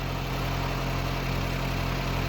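Steady low rumble of a Mazdaspeed 3 engine at idle, continuous and close, with no talking, its idle dropping as the battery runs down.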